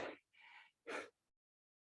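A person pants hard in a few heavy, breathy bursts of breath close by, with a pause of silence before another breath starts at the end.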